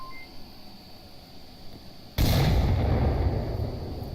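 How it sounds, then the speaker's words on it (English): A grenade detonates in the VR shooter game Onward, a sudden heavy boom that swells into a sustained loud roar after a quieter stretch of ambient game noise. "Rob's going to come up with a nade."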